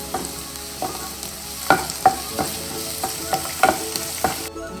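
Curry leaves dropped into hot oil while cooking horse gram upperi, crackling sizzle with a series of sharp spatula clinks and stirring strokes at an uneven rhythm, close up, with no voices, ending abruptly.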